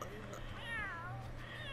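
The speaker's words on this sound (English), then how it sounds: "It's a cat." A cat meows in The Sims 3 game, one drawn-out, wavering cry over a steady background hum, with talk around it.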